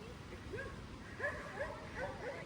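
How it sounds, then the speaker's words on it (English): A dog yips and barks repeatedly at kayakers and paddle boarders on the water near a dam trail in Ontario, moderately distant, with outdoor ambience and some voices in the background. "You can hear a dog barking at the kayakers."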